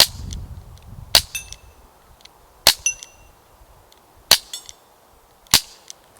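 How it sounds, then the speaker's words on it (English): A Webley MK VI CO2 air revolver fires four sharp, loud, close shots with a double-action trigger, evenly spaced about a second and a half apart, each a crisp crack followed by a short metallic ring. "In the early shots with a fresh CO2, it's weird"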